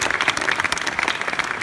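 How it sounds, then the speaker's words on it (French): An audience at the Septuors 2018 awards applauds the Frayssinet group, a dense, steady wash of many hands clapping together, close and sustained for the whole moment. "Vous applaudissez s'il vous plaît le groupe Fressinet"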